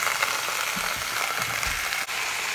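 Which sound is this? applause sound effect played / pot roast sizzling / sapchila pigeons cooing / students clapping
pot roast sizzling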